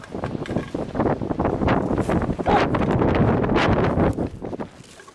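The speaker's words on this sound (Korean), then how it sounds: "바람 터졌어요, 바람. 바람이 지금 너무 많이 불어갖고" Strong gusty wind buffets the microphone at a fishing harbor on the coast near Sokcho, a loud, continuous roar that swells and dips for several seconds before easing at the end.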